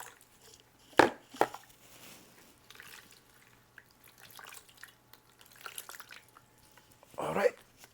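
Hands being rinsed under water: short splashes and trickles come in a few bursts, strongest near the start and end, with quiet dripping between and a person speaking at times.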